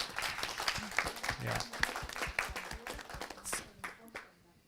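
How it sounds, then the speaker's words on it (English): A lecture-hall audience at a university event claps in a loose, thinning round of applause, with individual claps distinct and voices talking over it before it fades out near the end. "But we will continue right after the applause then."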